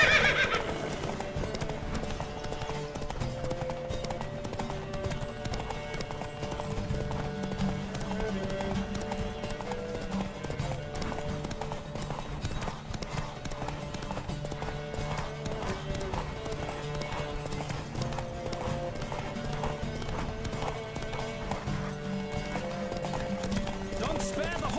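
A horse gallops in a race in The Witcher 3 video game, a continuous quick clip-clop of hooves with occasional neighs, mixed under steady game music and voices.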